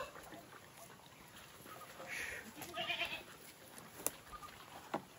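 A goat bleats twice at moderate distance, short nasal calls over quiet outdoor background, followed by a couple of sharp clicks.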